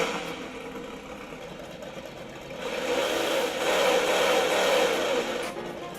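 A toy car's driving-controller sound module plays a recorded car engine running after start-up, a faint, steady electronic engine drone that swells slightly midway, heard alone.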